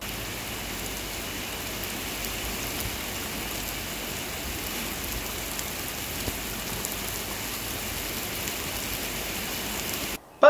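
Steady rain falls onto surfaces as an even, dense hiss that holds at constant loudness, with no talk, before a sudden cut at the very end.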